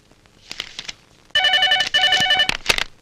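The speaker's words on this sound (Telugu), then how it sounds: "ఎవరో గణపతి ఉన్నాడా సార్ మీకు ఫోన్ ఎవరో కనుక్కో" An old-style telephone bell rings in an office scene of a Telugu action film. It comes in two loud, closely spaced bursts of trilling rings, after some faint background movement.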